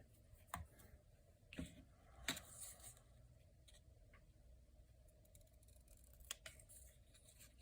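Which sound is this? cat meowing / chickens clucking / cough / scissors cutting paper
scissors cutting paper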